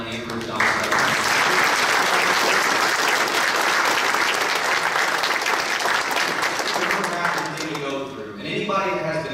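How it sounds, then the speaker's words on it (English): Audience at a Republican mayoral forum in Frankfort, Indiana breaks into a loud, sustained round of applause that thins out near the end, with a voice starting to speak as the clapping fades. "Ladies and gentlemen, can we give a big round of applause for Thelma and Ruth Dommestrup?"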